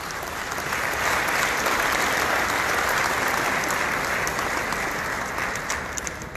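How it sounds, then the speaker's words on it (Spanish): Sustained applause from the audience at a national industrialists' convention, steady and dense throughout, greeting a federal deputy from Zacatecas as he is introduced. "El aplauso también para el licenciado Feliciano Flores Anguiano, diputado federal por Zacatecas."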